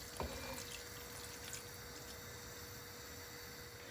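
Water poured over chard rolls in a pot, a faint steady stream running continuously throughout, quiet and unbroken.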